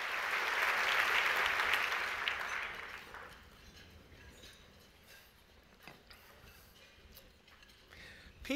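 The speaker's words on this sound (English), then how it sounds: "Join me in giving them and their teams a big round of applause." Audience applause at an awards breakfast, a full room clapping loudly for about three seconds before fading into a quieter murmur of the hall.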